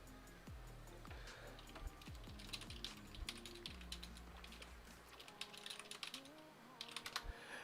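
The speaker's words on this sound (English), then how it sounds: "Why am I typing back to Grief?" Fingers type on a computer keyboard during a Diablo game session, producing quick irregular clusters of key clicks, fairly close and soft, alongside steady game background tones and no speech.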